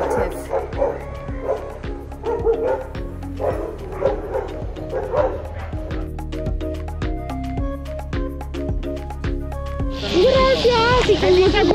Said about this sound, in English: check this out, the dogs are getting in a tiff.